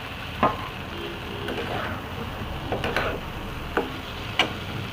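Potol (pointed gourd) frying in spiced oil with salt: a steady, moderate sizzle with occasional sharp spatula knocks and scrapes against the pan, close by and without speech.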